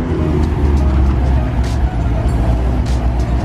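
A Ford Mustang GT350R fitted with a Gen 5 Whipple supercharger runs on a dyno, a loud, deep, steady engine rumble filling the space with faint high hiss bursts on top.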